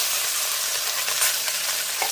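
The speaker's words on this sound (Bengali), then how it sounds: "পুঁটি মাছগুলো ভাজে" Small puti fish frying in hot oil in a pan, a dense, loud, continuous sizzle and crackle close up, with no voices.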